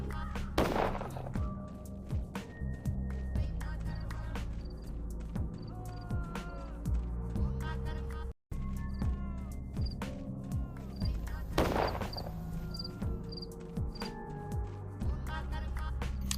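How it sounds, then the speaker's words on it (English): Gunfire in the video game Pathologic: repeated sharp shot bursts at irregular intervals over a layered in-game ambience of tones and chirps, with two louder blasts standing out. "Hearing those gunshot sounds always makes me"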